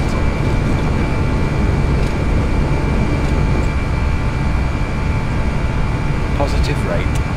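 Airbus A320 jet engines in a flight simulator spool up for takeoff: a steady, loud, broad roar holding evenly throughout, with a few faint higher tones near the end.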